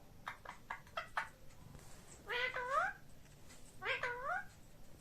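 A pet parrot imitates a cat's meow: a few short chirps, then two clear, drawn-out meows in a row, close and fairly loud against a quiet room.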